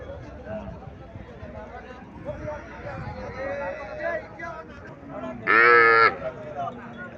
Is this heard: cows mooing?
yes